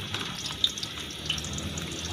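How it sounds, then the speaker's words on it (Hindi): Onions sizzling in hot ghee, a steady close hiss with a faint crackle and a couple of small pops, moderately loud and heard alone. "सबसे पहले घी के अंदर प्याज डाल देंगे"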